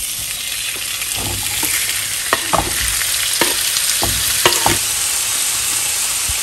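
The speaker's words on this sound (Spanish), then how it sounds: "En un sartén voy a agregar un chorrito de aceite y voy a agregar pechuga" Chicken breast frying in a splash of oil in a pan, a loud, continuous close sizzle with a few brief scraping knocks of a utensil moving the meat.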